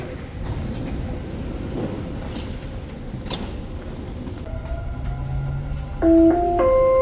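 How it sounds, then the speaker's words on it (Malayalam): A train pulls into a station platform with a steady low rumbling roll and hum for several seconds, then clear electronic chime tones sound near the end; no one speaks. "5 മണിക്കാണ് ഫസ്റ്റ് ട്രെയിൻ വരിക."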